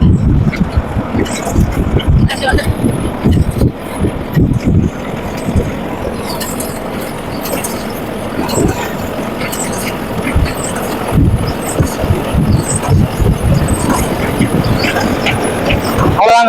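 A combine harvester cuts paddy in a rice field, producing a loud, steady mechanical engine rumble and rattling throughout, with talking over it.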